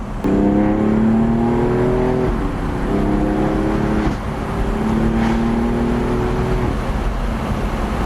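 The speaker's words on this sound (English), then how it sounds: "This car sounds absolutely insane. Like generally the override, like the backfires this car has, it's absolutely crazy." A BMW F82 M4 with an Eisenmann exhaust revs repeatedly, loud rising and falling engine tones in several pulls with rough crackles between them, close and alone without speech.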